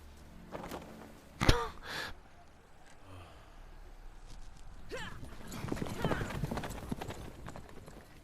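Horse hooves clopping while riding in the video game The Witcher 3, a steady walking rhythm mid-loud under intermittent game voices and a brief snort near the start.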